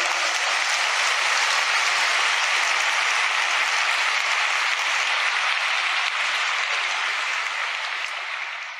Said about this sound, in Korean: 박수 한번 해보라고.